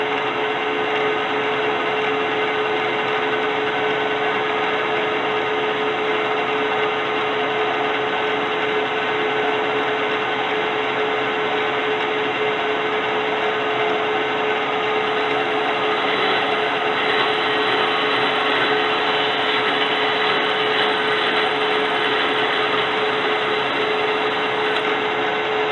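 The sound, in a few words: K&T Model 2D rotary head mill plunge cutting brass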